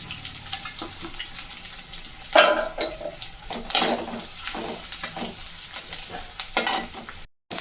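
Onions and green chillies stir-fried in a pan, a steady close sizzle broken by several louder scraping stirs, with a brief splash of water near the middle and no talking.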